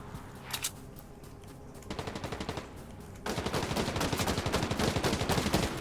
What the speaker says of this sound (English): Oh, I hear someone shooting.